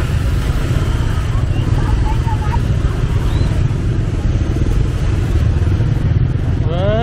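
Motorbikes buzz and idle through a busy Vietnamese traditional market at Lunar New Year, a steady dense engine drone mixed with crowd chatter and clatter, with a brief horn-like tone near the end.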